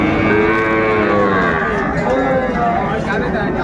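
Young bull calves low repeatedly at a busy rural cattle market in Raniganj, their moos near and loud over a constant murmur of crowd chatter and bargaining voices.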